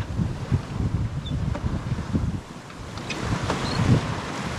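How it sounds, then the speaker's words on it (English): Steady wind buffets a sailing boat on a breezy day, around 15 knots from the south-southwest near the entrance of Loch Sween, a loud rushing roar with gusting swells and faint water wash, no talking. "fairly breezy day, 15 knots, and uh, southerly, sort of southwesterly"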